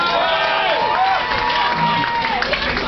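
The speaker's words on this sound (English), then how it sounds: "Big round of applause" Crowd at a small live rock concert at The Luminaire cheering and whooping loudly and continuously, with scattered applause and a voice talking over the noise.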